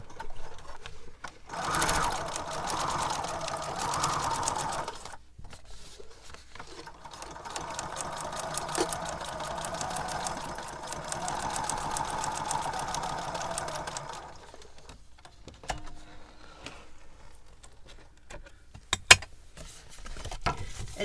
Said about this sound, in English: So I'm going to stitch here on this edge. I'm just using a straight stitch.